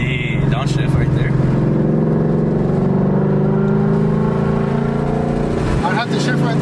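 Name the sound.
2018 E85 Mustang engine revving during downshift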